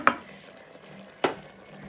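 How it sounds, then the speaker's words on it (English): A utensil scrapes twice through a pot of chana masala as lemon juice and garam masala are stirred in, two sharp clacks against the pan over a soft background hiss. "Now I'm adding in the lemon juice and the garam masala. And I'm going to stir that in"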